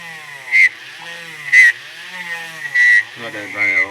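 A rotary tool grinds the center of a 1/6 scale vinyl figure kit of Quark, a whining buzz that rises in short bursts of about a quarter second, four times, over a quieter hum.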